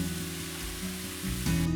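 Seared steak slices returned to a hot wok of stir-fried vegetables, giving a brief, steady sizzle that grows slightly louder at the end, with music in the background.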